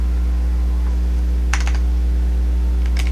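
A few computer keyboard keystrokes entering a host name, then Enter, with two brief bursts of clicks over a steady electrical hum and no talking.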